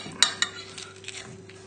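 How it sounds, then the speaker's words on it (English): A spoon scrapes and taps in a dish as strawberries are lifted back onto pastry for a strawberry tatin, two sharp clinks early on and then soft scraping, close by with no talking. "So just using a spoon, just lift the strawberries"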